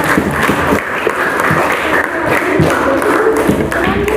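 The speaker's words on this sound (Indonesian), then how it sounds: "Tepuk tangan untuk kelompok" Classroom applause for a presenting group of students, sustained dense clapping from many hands with occasional thumps, loud and steady throughout.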